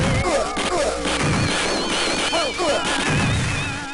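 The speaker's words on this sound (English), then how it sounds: "All of the guns and explosions have so much weight and impact behind them." Heavy gunfire and explosions from the Predator 2 video game crash in dense, loud bursts with metallic ringing tones, continuous and chaotic throughout.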